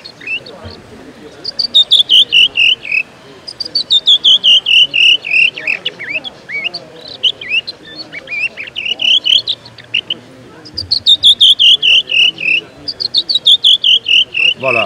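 A man whistles an imitation of the redwing call in repeated bursts of high, thin, descending notes at a hunting festival, with crowd noise and murmuring voices underneath between phrases.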